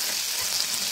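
Ginger and chilli paste sizzling in a hot frying pan for a pointed gourd curry: a steady, bright, close hiss of frying that carries on evenly without pause.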